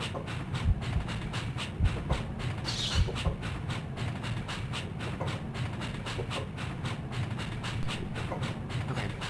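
A train rolls along its rails in the video game Breath of Fire III, a steady rhythmic clatter of wheels over track joints with a constant rumble and a brief hiss of steam partway through.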